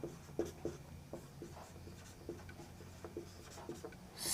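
A pen writing on paper during a class 10 maths lesson, with quiet close scratchy strokes in an irregular rhythm of short marks and pauses, faint and with no talking.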